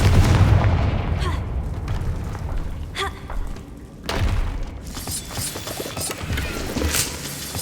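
Confringo fire spell blasts in the Hogwarts Legacy video game, a string of loud booming impacts and crackling bursts over a dense, rumbling game soundscape.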